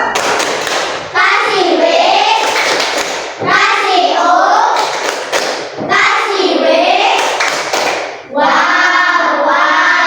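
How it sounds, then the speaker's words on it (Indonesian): A primary-school class claps and chants together in four loud rhythmic bursts, with children's voices joining in the patterned clapping. "kita kasih tepuk untuk diri kita sendiri"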